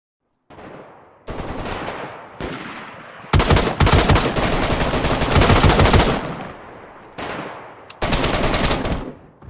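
Machine gun fire in the DayZ survival video game: several long, loud automatic bursts with short gaps between them, one extended sustained volley in the middle, no talking.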